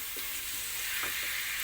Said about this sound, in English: So now we just have to simmer this, cover and simmer for just about 5 minutes.